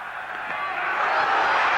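A cricket crowd at Edgbaston roars as the bowler runs in, a broad, steady swell of massed voices that builds gradually and stays loud throughout.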